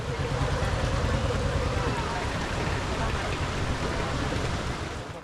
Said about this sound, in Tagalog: Habang hinihintay ang ambulansya, lalong lumakas ang ulan.